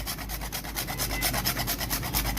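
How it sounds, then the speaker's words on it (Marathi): Nutmeg is grated by hand for homemade amrakhand, producing a close, rhythmic rasping scrape repeated in quick even strokes. "जायफळ किसून टाकणार आहे"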